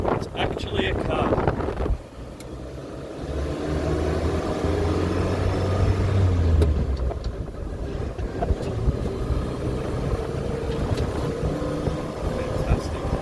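A 1975 Land Rover Series 3 runs along a road, its engine and drivetrain a steady low rumble with wind buffeting the microphone, and voices talking over it from inside the cab.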